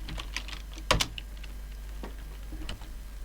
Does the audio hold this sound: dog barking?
no